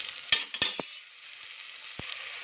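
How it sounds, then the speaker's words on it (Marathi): Chopped tomato sautéed in a pan, with a few sharp scraping stirs of a spoon and then a quiet, faint sizzle in the background. "टोमॅटो पण मस्त टाकली छान परतलेला आहे"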